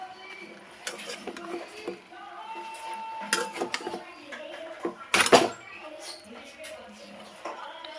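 Chopped greens being stirred and mixed in a cooking pot, with uneven scraping and clattering spread across the clip and a sharper burst near the middle, while a person talks over it.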